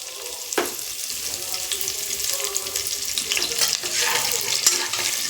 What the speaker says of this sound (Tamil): இது வறுபட்டதும் கருவேப்பிலையை சேர்த்துக்கலாம்